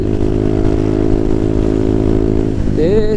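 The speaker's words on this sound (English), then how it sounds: "I'm on the motorway. On a Honda Grom." A Honda Grom motorcycle cruising on the motorway, its small engine droning steadily with dense harmonic whine and wind rush, then pitch sweeping upward near the end as it revs and accelerates.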